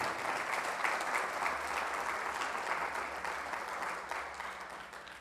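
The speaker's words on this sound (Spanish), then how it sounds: "Les invito a que demos una ofrenda de palmas." A church congregation gives sustained applause, a dense even wash of many hands clapping together that carries steadily from start to finish and tapers slightly toward the end, with no voices standing out.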